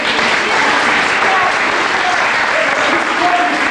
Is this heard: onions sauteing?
no